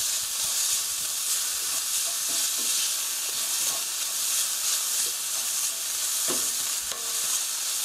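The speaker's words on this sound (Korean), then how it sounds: "그라운드 포크 고기 넣어주시고요. 고루 볶아주시고요." Ground pork stir-frying in a hot pan for a tofu sauce rice bowl, a steady close sizzle and hiss with occasional scrapes and stirring knocks throughout, no talking.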